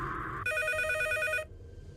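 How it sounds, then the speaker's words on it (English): A phone rings in a horror visual novel video game, one steady electronic trill of about a second that cuts in abruptly over a low ambient hum and then stops, with no voices. "As I shake off the grogginess, I realize my phone is ringing."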